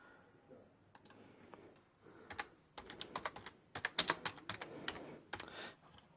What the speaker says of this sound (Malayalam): ഞാൻ ടൈപ്പ് ചെയ്ത് കൊടുക്കുന്നു